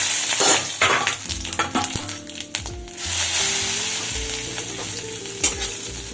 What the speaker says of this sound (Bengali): কয়েক সেকেন্ড ভাজার পর আদা বাটাটা দিতে হবে।